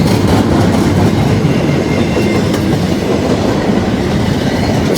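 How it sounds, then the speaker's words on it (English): A freight train rumbles steadily past at close range, a loud, continuous roar of rolling wheels and rattling cars that never lets up. "I think the gondola train is behind this one."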